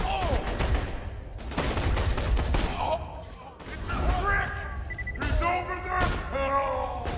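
Rifle shots in the video game Borderlands 2, sharp bursts of gunfire mixed with game effects and yelling, loud and dense across the clip with talking underneath.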